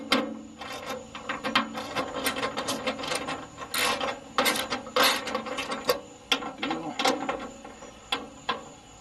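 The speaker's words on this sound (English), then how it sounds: "I actually inherited these little hand ratchets right here from my granddad" Small inherited hand ratchet, one end a 3/8 drive and the other an Allen bit, clicking through quick bursts of ratcheting strokes, close and fairly clear, during work on RV steps and a handrail.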